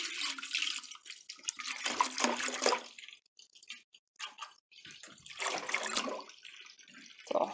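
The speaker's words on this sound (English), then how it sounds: "we're going to pour the entire gallon of milk in our pan" A whole gallon of milk poured into a pan for making queso fresco, glugging bursts of pouring liquid with short pauses between, close and fairly quiet.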